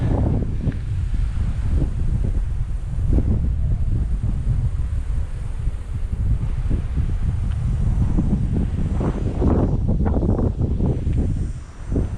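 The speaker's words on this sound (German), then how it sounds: "Dafür ist das hier oben ganz schön windig." Strong wind on high ground on Magnetic Island, Australia, buffets the microphone in continuous loud gusts, rumbling and roaring with no other clear sounds.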